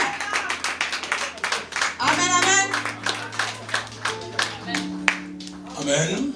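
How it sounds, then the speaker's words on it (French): Guests at a Congolese religious wedding in Paris clap in quick rhythmic bursts, with organ-like sustained chords and a voice calling out over them, the clapping pulsing steadily throughout and swelling near the end. "On va l'acclamer le papa."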